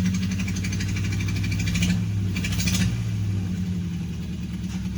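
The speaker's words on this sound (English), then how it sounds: "Rev it." A 1988 Nissan Sentra with an E16i engine and starting and running issues idles with a buzzy drone. It revs up briefly in the middle, then settles back to a steady idle, heard close and alone.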